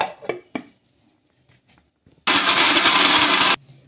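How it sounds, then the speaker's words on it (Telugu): A few faint knocks, then a mixer grinder whirs loudly for about a second and a half before cutting off abruptly. "మెత్తగా మిక్సీ అయితే పట్టేసుకుందాం"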